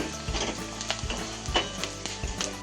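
Chopped onion fries in a pan for a traditional gholchi bhaji, a quiet continuous sizzle broken by several soft scrapes and knocks of the spatula as it is stirred at irregular intervals.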